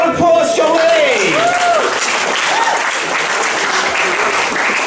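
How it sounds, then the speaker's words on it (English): Audience at a student comedy gig applauding Jon Lee, loud sustained clapping and crowd noise with voices whooping and talking over it. "give a round of applause, Jon Lee!"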